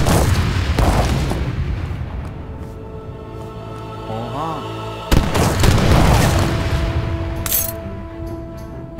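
Deep booming cannon fire in Age of Empires 3, with heavy blasts at the start and midway, rumbling battle noise between them and a brief tonal game sound.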